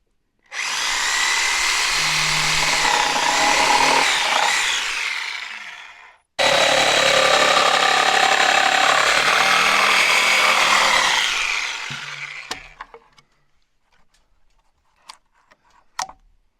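A power saw roars through timber, notching eight-inch cuts into a wood-framed loft wall, two long loud continuous cuts separated by a brief stop, then winding down into a few scattered knocks.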